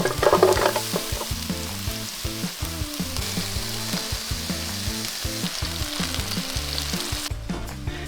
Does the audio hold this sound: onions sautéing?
yes